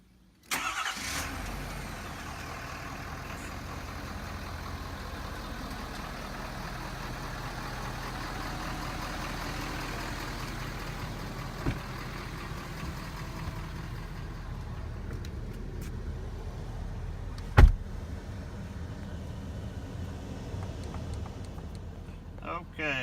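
A 2017 Ford Super Duty diesel engine cranks, starts, and settles into a steady low idle that is rough and continuous, with a brief clunk near the end. It runs close by and loud, with nothing else over it.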